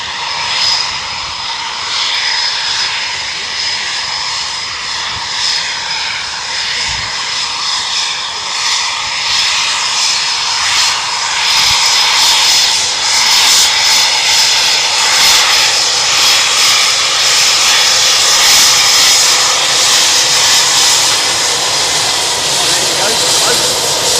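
A Eurofighter Typhoon twin-seat jet departs alone from RAF Coningsby, its engine roar building into a loud, steady broadband rush with a thin high whine, while people speak quietly in the background.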